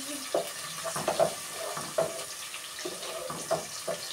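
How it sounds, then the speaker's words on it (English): Onion frying in a pan while being stirred, giving a soft, steady sizzle with repeated close scraping and clinking strokes of the spoon. "Now we stir the onion while cooking."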